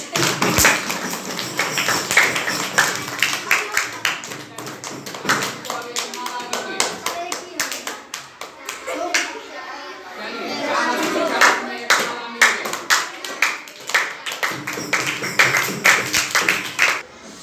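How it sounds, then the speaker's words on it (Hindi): Class 5 students clapping their hands in a classroom, bursts of brisk, rhythmic claps close by, with voices talking in between. "अब आप लोग ताली बजाइए"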